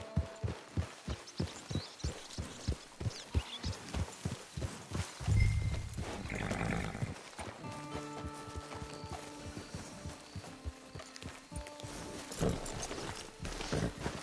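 Horse hooves clip-clop in Red Dead Redemption 2, a steady walking rhythm of close, clear hoof strikes that breaks off midway for a rustle and a brief musical stretch before the hoofbeats resume.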